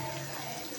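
Raw chicken being rinsed under a running kitchen tap, with a steady, close water hiss.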